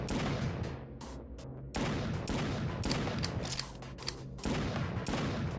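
Rapid bursts of automatic weapon fire in the shooter game Doomed, dense repeated shots in loud sustained volleys broken by brief pauses, no talking.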